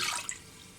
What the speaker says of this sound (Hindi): इसके अंदर हम ये पानी ऐड करने लगे हैं